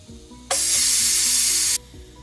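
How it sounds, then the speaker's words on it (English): A pressure cooker releases steam in one loud, steady hiss lasting just over a second, cutting off abruptly, with a low background hum before and after. "if you can hear that the voice or the sound of the steam has kind of gone low"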